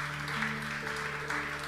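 A church congregation claps steadily throughout, a dense patter of applause with a faint sustained tone underneath.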